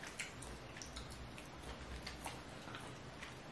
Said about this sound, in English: If you guys hear that noise, it's the rain.